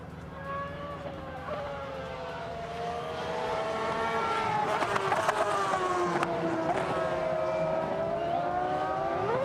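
Ferrari F60 and SF71H Formula 1 cars run on the Imola circuit during the Ferrari Finali Mondiali 2022 show, engines whining and rising in pitch as they pass, building from moderate to loud over several seconds.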